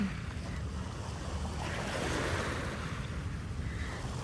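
Ocean surf washes steadily with a broad, rushing roar, swelling slightly midway, with wind buffeting the microphone throughout.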